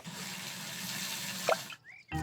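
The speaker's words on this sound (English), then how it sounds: "Daddy Pig has some warm, soapy water to wash the car." Warm soapy water splashes and sloshes steadily as a car is washed, a continuous wet rush that cuts off abruptly near the end, followed by a brief squeak and another burst.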